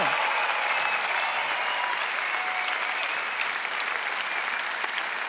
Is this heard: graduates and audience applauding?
yes